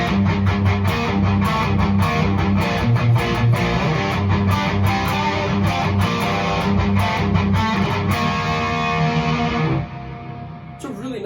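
Electric guitar played clean through a reverb effect with the overdrive pedal bypassed, a loud, steady run of strummed and picked notes that sustains for about ten seconds before fading into a quieter ringing tail.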